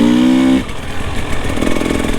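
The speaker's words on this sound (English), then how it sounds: "Listen to how smooth that clutch is with the Rekluse." A Husqvarna TPI two-stroke trials motorcycle fitted with a Rekluse clutch revs loudly up close, dropping from a steady high-pitched drone into a rougher, lower chugging engine note.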